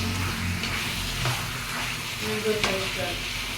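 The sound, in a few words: pepper chicken curry simmering in a pan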